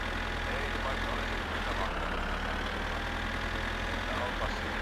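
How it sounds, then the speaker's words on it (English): Old tractor engine idling in the video game My Summer Car, a steady rough low rumble that runs throughout with a voice speaking over it. "You know how bad this tractor is?"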